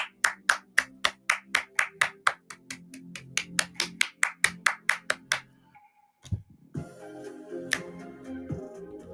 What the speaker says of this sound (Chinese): 让我们一起鼓掌